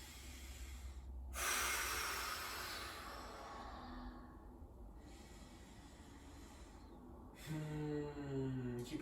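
Slow, deep breathing during a yoga stretch, with long soft inhales and exhales and a couple of sharper nasal breaths, close and quiet, no talking.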